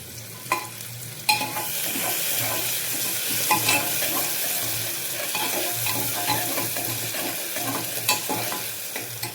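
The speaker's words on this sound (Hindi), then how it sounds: "तेल डालने के बाद मिर्ची और प्याज को थोड़ा फ्राई करूंगी।" Chopped chilli and onion fry in hot oil inside a pressure cooker, giving a steady soft sizzle broken by a few sharp scraping stirs, with no voices.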